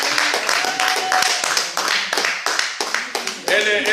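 A church congregation claps and applauds in steady, loud, rhythmic bursts close by. A voice speaks over the clapping.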